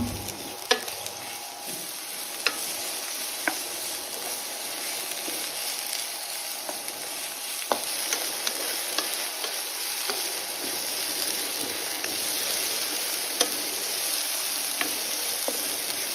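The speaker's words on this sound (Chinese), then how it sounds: "先把洋葱和葱白部分放下去， 因为这2个食材呢都需要爆香" Sliced onion and scallion whites sizzle in a generous amount of hot oil in a wok for soy sauce chow mein, a steady bright crackle with occasional sharp pops and spatula taps, no voices.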